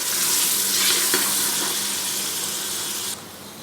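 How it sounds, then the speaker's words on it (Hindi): Ginger garlic paste frying with softened onions in a pan, a loud continuous hissing sizzle close up that drops abruptly in level near the end, with no talking. "इसके अंदर जाएगा अदरक लहसुन का पेस्ट, फ्राई कर लेते हैं थोड़ी देर"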